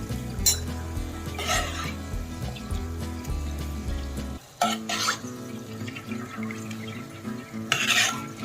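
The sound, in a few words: frying and stirring coconut in a pan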